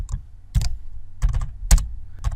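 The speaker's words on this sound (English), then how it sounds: "start typing the name of that file" Bursts of keystrokes on a computer keyboard, in short irregular clusters with pauses between them, close and fairly crisp.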